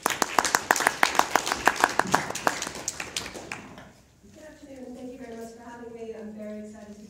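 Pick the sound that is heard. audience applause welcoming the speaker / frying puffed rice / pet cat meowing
audience applause welcoming the speaker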